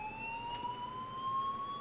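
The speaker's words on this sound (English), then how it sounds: "Oh, that's a fire alarm." A school fire alarm in the video game Life Is Strange wails as a steady, rising electronic siren tone, loud and continuous throughout, with no talking over it.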